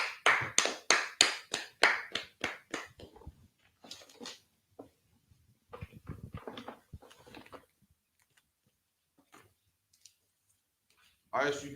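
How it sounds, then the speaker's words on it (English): An audience claps in about ten sharp, evenly spaced beats, then breaks into scattered, softer claps that die away into near silence before a final brief burst. "All right, clap it up."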